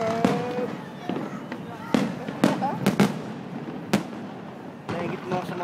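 New Year fireworks at JBR in Dubai pop and crackle in several separate bursts, some sharp and close, others softer, while people chat nearby.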